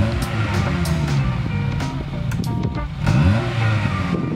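A 2015 Honda CR-Z with a custom exhaust and muffler delete, its engine loud and close as it idles and then climbs in a short rev near the end.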